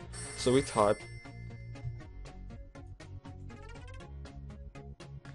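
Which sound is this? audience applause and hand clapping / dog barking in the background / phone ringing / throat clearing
phone ringing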